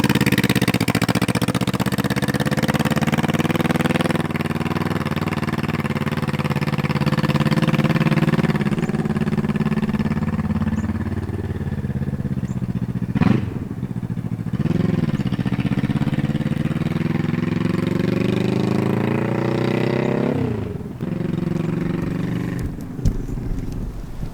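A Honda CB360 motorcycle engine idles steadily and loudly up close for the whole stretch, with a couple of brief throttle blips and pitch wobbles, no talking.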